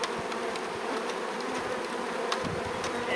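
Honeybees buzzing in and around a hive being installed, a dense steady hum close by with occasional louder individual passes, no talking.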